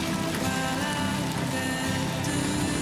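Steady, dense rain from the Death Stranding video game trailer pours down without a break, with a tonal soundtrack hum running underneath.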